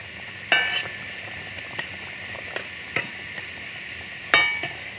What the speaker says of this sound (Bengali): ঝোলটা দেখো ফুটে গেছে, আমি এবার ভেজে রাখা মাছগুলোকে দিয়ে দিব